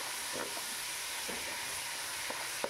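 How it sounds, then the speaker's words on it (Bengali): Diced tomatoes are stirred in a frying pan for vegetarian bhog khichuri, a continuous close sizzle with a few soft scraping strokes. "টমেটো দিয়ে ভালো করে একটু নাড়িয়ে চাড়িয়ে নিতে হবে"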